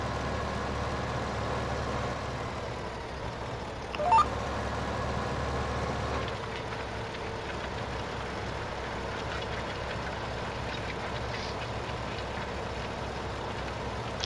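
A tractor engine pulling a cultivator in Farming Simulator 15 drones steadily at a low, even pitch throughout, with one brief bump partway and no talk over it.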